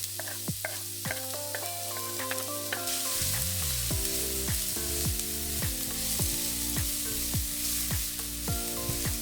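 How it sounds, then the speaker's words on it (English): Onion fries in two tablespoons of olive oil in a large pan, and a steady sizzle rises partway through. Prominent background music with plucked notes plays over it. "In the big pan add 2 tablespoons of olive oil. Fry the onion until it's translucent."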